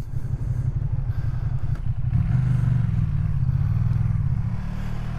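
A Ducati Streetfighter V2 naked sport bike revs hard, its engine climbing and falling in several close, loud throttle blips over a steady idle, with no voices.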